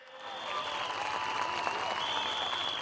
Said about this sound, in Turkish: Bir kuvvetli alkış Tele2'ye.